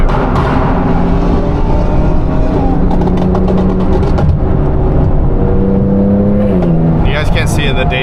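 Audi R8 Turbo S making around 1,000 hp, fitted with an F1-style exhaust, revs loudly and steadily nearby, engine note shifting pitch late on with crackling pops, while people talk over it.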